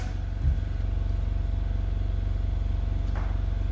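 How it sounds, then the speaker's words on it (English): A polishing buffer spinning at about 1400 RPM with 3M rubbing compound gives a steady low motor hum with a fast regular pulse, close and continuous, with a brief rub near the start. "I'm buffing about 1400 RPM."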